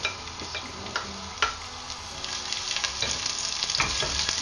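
Steady crackling sizzle of chopped ginger and garlic frying in hot oil, close up, with scattered pops and a few light utensil taps.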